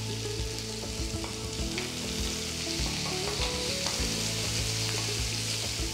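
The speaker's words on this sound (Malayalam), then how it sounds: "എണ്ണ നന്നായിട്ട് ചൂടായി. ഈ സമയത്ത് നമുക്ക് സവോള ചേർക്കാം." Onion sizzling and frying in hot oil in a pan, a dense steady crackle with occasional stirring clatter, loud and close with no talking.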